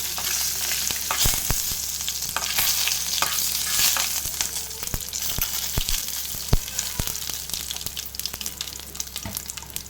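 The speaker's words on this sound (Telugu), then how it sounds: "ఇప్పుడు బాగా కలుపుకోవాలి." Food sizzling in a frying pan while it is stirred and mixed, a continuous hiss broken by sharp scrapes and clicks of the utensil against the pan, close and without talk.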